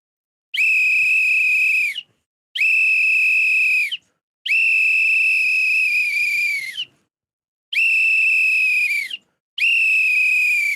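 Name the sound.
whistles blown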